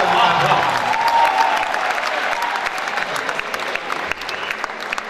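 Steady, dense applause from an audience at a Hindi comic poetry gathering, loud and continuous for several seconds with faint crowd murmur and a voice partly heard beneath the clapping.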